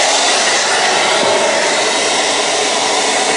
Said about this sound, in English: Start with this first hairdryer, and we'll get it up to about 1700 watts.